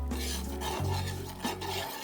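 Potato taco filling with cumin and salt being mixed in a pan, giving a close, steady rasping scrape with a soft sizzle underneath and a low hum throughout.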